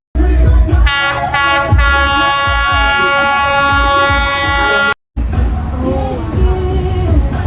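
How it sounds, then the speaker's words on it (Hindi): Train arriving on Hanoi Train Street, with a loud, sustained horn blaring over the heavy rumble of the passing train. The horn cuts off briefly, then the noise resumes close by as the train continues through. "Yes, the train is here."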